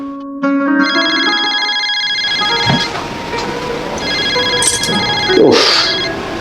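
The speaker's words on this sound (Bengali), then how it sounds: "কোথা মামা ফোন দিয়েছে দেখো তো" A phone rings with a steady electronic tone starting shortly after the beginning, with some household clatter and brief sounds in the background.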